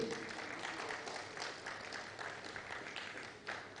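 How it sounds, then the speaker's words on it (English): Applause from an audience at a roundtable event in Nigeria as a panelist walks on stage, steady and fairly faint, a dense patter of many hands lasting throughout with no pause. "don't stop clapping"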